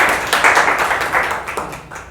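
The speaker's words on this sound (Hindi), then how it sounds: "सर के लिए ताली बजाइए आप लोग।" A group of people at a teachers' workshop applauding a teacher, a brief burst of close, dense clapping that swells quickly and tapers off within about two seconds.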